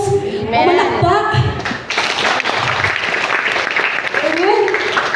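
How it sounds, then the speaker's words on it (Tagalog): Church congregation applauding in a Filipino worship service, a broad steady wash of clapping that runs throughout, overlapped by a preacher's voice speaking loudly over it. "Pumalakpak."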